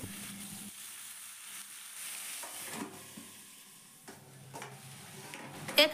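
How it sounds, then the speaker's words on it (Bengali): Mixed vegetables with ridge gourd and salt fry in a covered pan, giving a soft, steady sizzle with occasional stirring scrapes and a sharp clink near the end. "তো সবজিগুলোকে আমি এইভাবেই ঢাকনা দিয়ে ঢেকে ঢেকে ভেজে নেব।"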